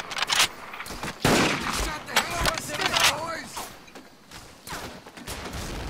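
Bursts of rifle and machine-gun fire crackle through a Pacific Assault battle in Medal of Honor, loud, ragged volleys in clusters, with someone shouting in between.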